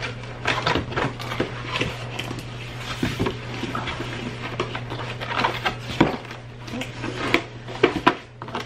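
Cardboard packaging for an Instant Pot Aura being opened, with rustling, tapping and soft thuds of the box handled up close over a steady low hum.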